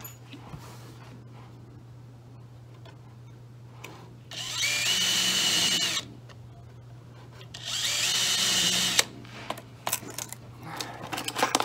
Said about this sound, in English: I am going to put two screws in the bottom.